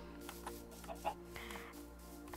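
Minecraft chickens clucking in a few soft, brief bursts over a steady low in-game hum, faint and fairly distant.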